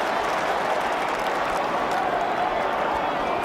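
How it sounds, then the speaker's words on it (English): A stadium crowd at a 2012 AFL football match between Port Adelaide and the Sydney Swans roars in a dense, steady wash of cheering, loud and continuous from start to end. "the crowd has found voice"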